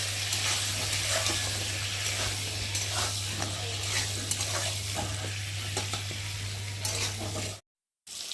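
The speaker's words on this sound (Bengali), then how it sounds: "হলুদ দিয়ে পটলটাকে বেশি ভালো করে লাল লাল করে ভেজে নেব" Pointed gourd pieces fry in oil with salt and turmeric, giving a steady, loud sizzle with stirring scrapes and an electrical hum underneath, then a brief cut to silence at the end.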